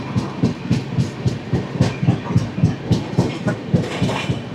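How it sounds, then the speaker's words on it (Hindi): A passenger train pulls out of a busy Indian station with a steady, rhythmic clickety-clack of wheels over rail joints, close and continuous with a rumbling low undertone. "ये रहा एक और ट्रेन वहाँ पे यहाँ से निकल रही है"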